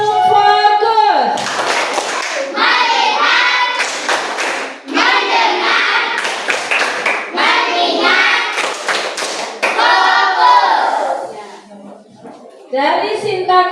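A primary school class does a rhythmic 'tepuk fokus' clap in sharp patterned bursts of hand claps, paired with children chanting in unison and separated by brief pauses, with a teacher's voice heard at the start.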